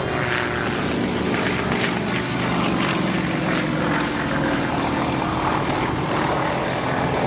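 Propeller-driven aerobatic airplanes chase each other at the Sun and Fun airshow, a continuous droning engine roar that holds steady and fairly loud throughout, with no break in the sound.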